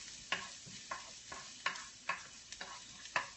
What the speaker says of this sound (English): We're just going to saute that.